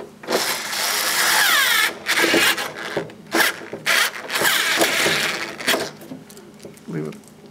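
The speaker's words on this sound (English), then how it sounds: "there's six screws right here, and it's these use a 13/32 socket. And I'm just gonna start putting them in there." Screws going into a 1997-2006 Jeep Wrangler door with a 13/32 socket during a manual window regulator replacement, heard as bursts of ratcheting and driving separated by short pauses, close and fairly loud.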